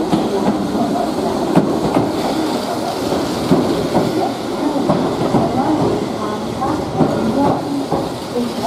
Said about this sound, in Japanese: まもなく1番乗り場に参ります電車は